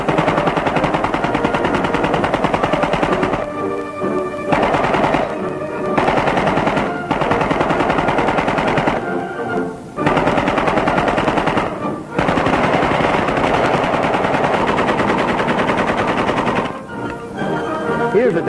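Machine guns firing regular service cartridges in a 1939 Marines demonstration, loud continuous automatic bursts broken by several brief pauses, with a narrator's voice running over the gunfire.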